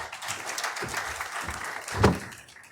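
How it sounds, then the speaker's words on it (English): Applause rises from the audience at a Passaic County Board of County Commissioners meeting for a commissioner, moderate clapping with a couple of sharper knocks, fading out after a few seconds. "Let's give Commissioner Bartlett a round of applause."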